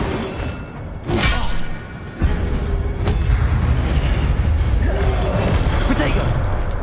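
Incendio fire spell cast in Hogwarts Legacy, bursting as a series of deep booming whooshes and crackling blasts over a continuous rumbling game soundscape, loud and close.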